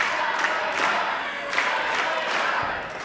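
A wrestling crowd at an independent show cheers and roars in a steady, loud wash of voices that fills the whole moment, with scattered shouts rising and falling and no clear single speaker.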